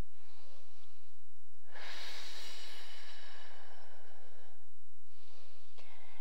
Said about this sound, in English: Remember those 3 deep breaths.